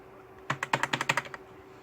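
Quick burst of about ten keystrokes tapped on the keyboard of an old Windows 98 computer, crisp and close, clustered within a second, then quiet room hum.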